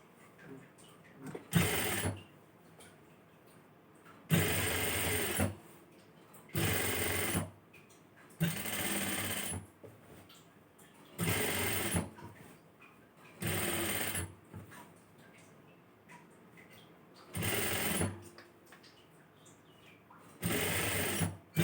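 A sewing machine stitches a chudithar neck in short repeated bursts of rapid whirring, each lasting a second or two and separated by quiet pauses, with faint talk in the gaps.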